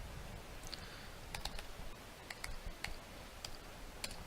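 Scattered keystrokes on a computer keyboard as a password is entered, quiet and irregular clicks spaced out over a few seconds against a steady low hum.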